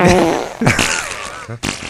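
A voice imitates a few blubbery farts in a row, loud and close, with short breaks between the bursts.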